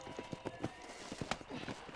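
Horse hooves clip-clop in the Red Dead Redemption video game, a quick, uneven run of soft thuds at moderate distance over a faint background bed.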